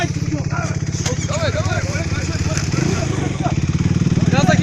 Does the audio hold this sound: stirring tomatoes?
no